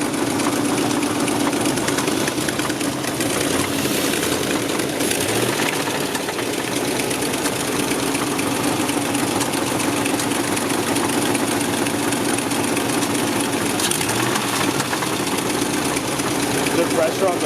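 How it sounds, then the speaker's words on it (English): Exhaust of an LS-swapped Nissan S14 running steadily on a dyno, a loud continuous droning roar that holds throughout with a rough, pulsing texture and voices faintly under it. "I keep hearing the exhaust."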